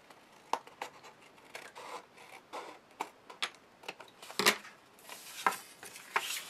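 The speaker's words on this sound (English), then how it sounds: "Then I'll take my scissors" Scissors trimming through cardstock at a crafting table, a series of short, crisp snips and scratchy cuts, close and fairly quiet, irregularly spaced with a few sharper strokes toward the end.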